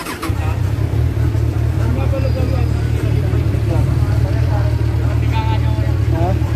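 A Kawasaki Z1000 naked motorcycle on its stock exhaust pipe runs steadily close by, a low, even engine drone that holds throughout, with someone talking over it.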